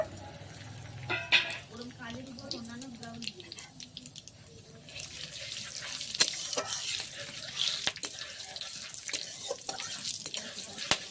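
Whole spices (cinnamon, dried red chillies, cumin and bay leaf) go into hot oil at an outdoor winter picnic, rising into a steady, hissing sizzle after a stretch of talking.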